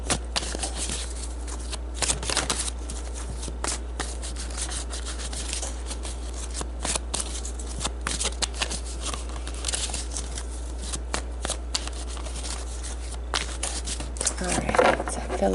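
Cards are shuffled repeatedly, with crisp riffling and soft rubbing bursts over a steady low hum, and a voice speaks in the background.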